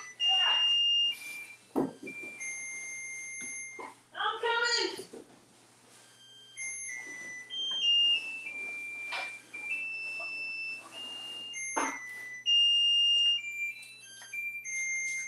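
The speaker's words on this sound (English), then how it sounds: "Timer's done." A kitchen timer beeps repeatedly in steady, loud electronic tones while red velvet cupcakes bake, with a person talking over it between the beeps.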